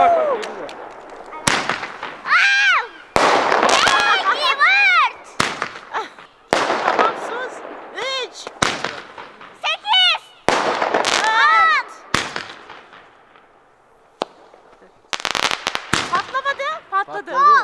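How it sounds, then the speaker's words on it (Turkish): Repeated loud firework bangs burst in irregular succession at a celebration, with excited voices shouting and cheering in Turkish between and over the explosions. "Keşke ikisini yan yana patlatsaydın Taner."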